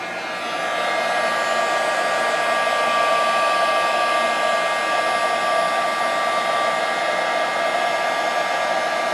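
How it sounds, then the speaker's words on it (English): A heat gun runs steadily for about nine seconds as it melts embossing powder on a handmade shaker card, giving a loud, even blowing whir with a constant high whine and no talking. "when you're using a heat gun, you want to turn it on and let it heat up first, and then move it to your project"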